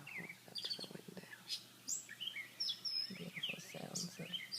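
Wild birds chirp and sing outside a window in the morning, with several thin, bright calls scattered over a quiet background, joined by soft low murmurs and handling noise nearby.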